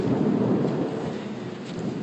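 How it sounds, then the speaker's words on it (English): Heavy rain pours steadily through a thunderstorm, a dense, continuous hiss with low rumbling beneath, close and even throughout with no pauses. "You can hear the rain"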